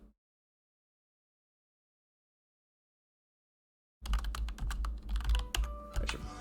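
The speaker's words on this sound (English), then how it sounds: "I should probably mute before I start typing in front of my mic." Computer keyboard typing starts after about four seconds of silence, a dense run of quick key clicks close to the microphone with no talk.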